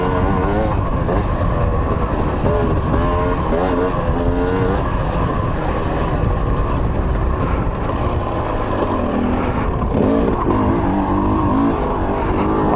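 A TM EN 300 dirt bike engine revs and drones continuously while riding desert trails, loud and close with shifting pitch as the throttle rises and falls, with wind noise over it.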